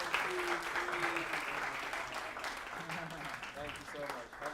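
An audience applauds a band at a Friday forum, a steady wash of clapping held at a fairly even level for several seconds, with voices and cheers mixed in over it.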